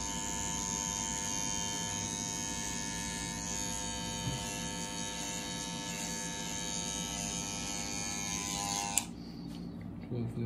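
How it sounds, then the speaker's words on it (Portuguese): A slimline electric hair trimmer shaving a beard gives off a steady, close, high-pitched buzz that runs evenly for about nine seconds, then cuts off abruptly, leaving near quiet. "Agora a gente vai vir com a slimline."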